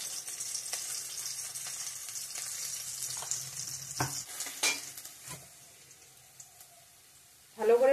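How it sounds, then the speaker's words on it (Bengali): Onion and garlic sizzle in a pan with spices as they are stirred, a steady close frying hiss with scraping stirs, fading quieter toward the end before a sudden louder clatter. "ভালো করে ভাজা হয়ে গেছে পেঁয়াজ রসুনটা।"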